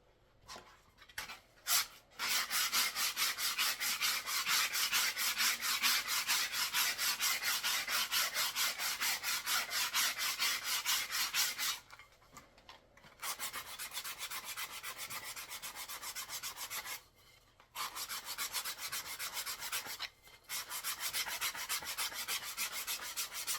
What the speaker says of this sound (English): sand the whole thing again really aggressively